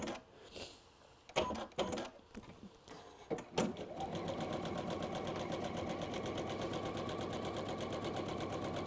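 A sewing machine stitches a fabric seam down. A few clunks and short bursts come first, then a steady, fast, even whirring chatter runs on and on. It stays fairly quiet, with no voice over it.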